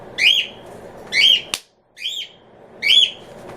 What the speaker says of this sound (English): Your bird is loud.